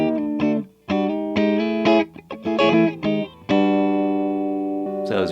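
Squier Vintage Modified Cabronita Telecaster electric guitar plays clean chords and single notes, ringing and sustained with short gaps, loud and close, no voice.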